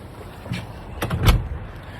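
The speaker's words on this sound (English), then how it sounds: "let me close this door" A door in a hotel complex in Biarritz is pulled shut early in the morning, with a soft knock, then a quick rattle and a firmer closing thud over quiet background hiss.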